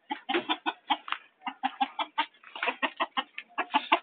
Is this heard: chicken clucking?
yes